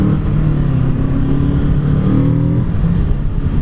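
A 2019 Kawasaki Z650 parallel-twin motorcycle is ridden at speed, its engine a loud, steady buzzing drone with slight pitch changes from gear shifts, heard close amid wind noise and no talking.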